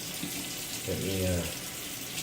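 Water runs from a tap into a sink while someone rinses off during a shave, a steady hiss with a brief voice murmuring over it.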